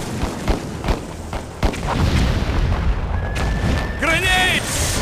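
Grenade blasts in TimeSplitters Future Perfect, set in a Scotland mission, give a few sharp booms early on, then rumbling gunfire and electronic tones follow without pause.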